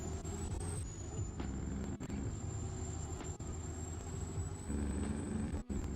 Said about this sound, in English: I always forget how loud that truck is